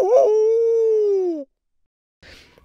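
A single dog howl, one long loud sliding tone that falls slightly in pitch before stopping, followed by silence and a brief faint noise.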